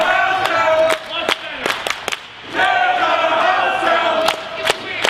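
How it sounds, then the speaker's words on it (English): Capacity crowd at an independent wrestling show chanting "Tear the house down" in rhythmic bursts punctuated by sharp claps and stomps, loud and boisterous, with an announcer's voice mixed in. "This capacity crowd chanting, "Tear the house down.""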